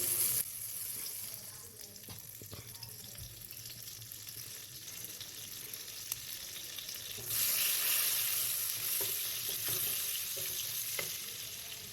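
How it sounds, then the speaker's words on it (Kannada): Butter and oil heating in a pan for paneer butter masala, giving a steady close sizzle and crackle throughout that swells louder toward the end, with no voices. "ಈಗ ಇಲ್ಲಿ ಎಣ್ಣೆ ಮತ್ತು ಬೆಣ್ಣೆ ಎರಡೂ ಕಾದಿದೆ."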